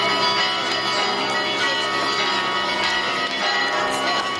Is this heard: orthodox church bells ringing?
yes